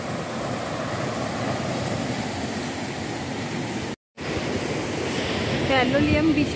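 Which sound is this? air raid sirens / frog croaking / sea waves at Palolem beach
sea waves at Palolem beach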